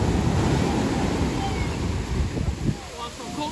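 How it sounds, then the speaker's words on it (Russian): Stormy surf pounds a beach on Samui, Thailand, as a continuous loud roar of crashing waves mixed with wind buffeting the microphone. "Ой-ой-ой, смотрите, какая волна!"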